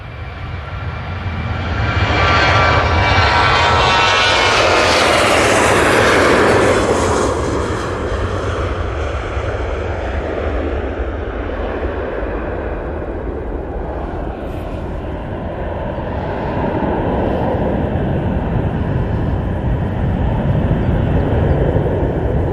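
Airliners at Manchester Airport roar loudly, a jet engine building to a broad rushing peak then holding a long sustained rumble nearby, no talking.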